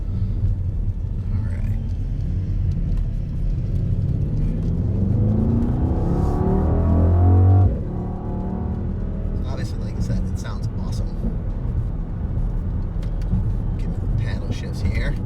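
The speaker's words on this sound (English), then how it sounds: "4-liter twin-turbo V8 making 603 horsepower and 627 pound-feet of torque" 2021 Mercedes-AMG GLE 63 Coupe with a 4-liter twin-turbo V8 driving on the road, a loud low engine drone that climbs steadily in pitch, drops sharply at a shift, then settles into a steady rumble with faint clicks.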